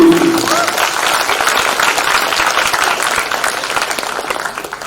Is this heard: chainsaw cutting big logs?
no